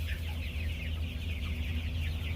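Kaveri chickens cluck and murmur together on a poultry farm, a steady close chorus of soft clucks over a low background hum, with no one speaking.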